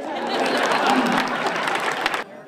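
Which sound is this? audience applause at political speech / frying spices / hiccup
audience applause at political speech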